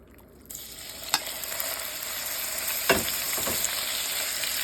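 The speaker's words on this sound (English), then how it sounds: "I'm going to brown it in a little bit of neutral oil until it's golden brown all over" Sliced pork browns in a little neutral oil, a steady close sizzle that jumps in after a short quiet start and holds level, broken by a few sharp scrapes or clinks, with no voice.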